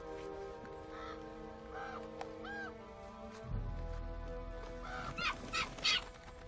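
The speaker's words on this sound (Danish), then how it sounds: "Hvorfor har vi alle de fugle i træet?" Birds call and caw from a tree, with clucking, crow-like cries and chirps scattered throughout, moderately close, joined by a low rumble and some busier rustling toward the end.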